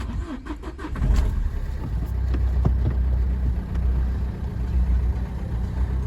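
A 2011 Nissan Qashqai 1.5 dCi diesel engine cranks briefly on a cold start and catches, then settles into a steady, loud running rumble with no voices.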